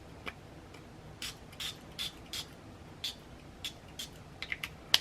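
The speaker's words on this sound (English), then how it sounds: "And I'm going to spray this." A small spritzer bottle sprays onto a paper envelope insert in a run of quick, faint puffs, some spaced out and a few clustered near the end, each a short, soft hiss with no talking.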